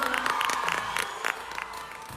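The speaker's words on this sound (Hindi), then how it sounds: "एक बार जोरदार ताली अपना भाई सब बजाइए" A crowd at an award event for Tuntun Yadav cheers and claps in scattered bursts over steady crowd noise, with occasional whoops standing out over about two seconds.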